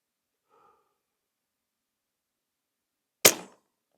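A Brocock Sonoran .30 air rifle fitted with a Hawke Sidewinder scope fires one sharp, loud crack with a brief tail, outdoors at a 100-yard target. The shot follows a few seconds of near silence broken only by a faint murmur.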